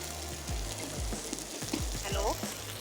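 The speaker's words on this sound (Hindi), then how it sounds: "जिस तरह हम पूरियों को डीप फ्राई करते हैं इस तरह ये पराठा जो है वो डीप फ्राई होगा" Puri paratha deep frying in hot oil, a steady sizzle running under the whole stretch, with occasional stirring or bubbling bursts and a faint voice in the background.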